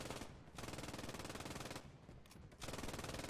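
An MG44 machine gun fires in the WWII shooter Post Scriptum, loud rapid automatic bursts with two brief pauses between long strings of shots.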